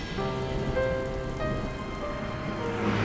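Heavy rain pours steadily on a surface as a constant broadband hiss, close and unbroken throughout, with no voices.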